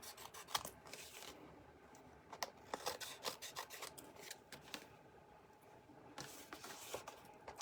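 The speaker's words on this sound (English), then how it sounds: "grab your paper snips and start trimming." Paper snips trimming a folded card for a layered cardmaking project: a faint, close series of crisp snipping cuts and paper rustles, scattered unevenly with short pauses between them and no voices.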